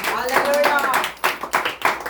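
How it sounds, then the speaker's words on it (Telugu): A congregation claps in a church prayer hall; a voice speaks at the start, then sharp irregular bursts of hand claps break out near the end. "చప్పట్లు కొట్టండి."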